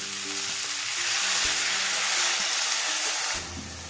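Water is stirred into frying vegetables and drumstick flowers in a pan, giving a steady, close, steamy sizzle and hiss with faint stirring clinks that eases off near the end.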